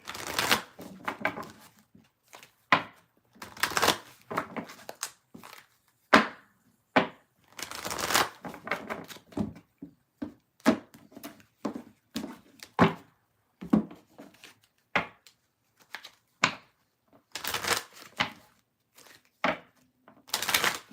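A tarot deck is shuffled in repeated bursts, cards riffling and slapping together in quick flurries with short pauses between, close and crisp.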